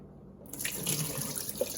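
Residual water from a coffee machine's drip tray is tipped into a sink, a short close splashing pour that starts abruptly after a moment of silence and runs on quietly.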